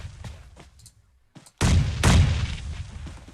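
Grenades go off in a video game, with scattered lighter pops and a quiet gap, then two loud heavy blasts close together that leave a long rumbling tail.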